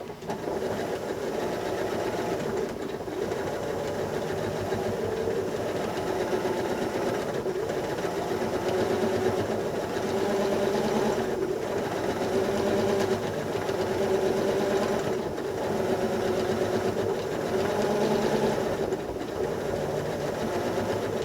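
Sewing machine stitching a quilt slowly, a steady close mechanical whir with a faint rhythmic pulse running continuously throughout.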